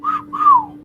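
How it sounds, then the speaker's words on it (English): A catcall wolf whistle aimed at an attractive girl: two clear, loud whistled notes, a short rising one and then a longer tone that slides downward, close and alone. "like a total cat call whistle"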